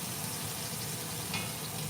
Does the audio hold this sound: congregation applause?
no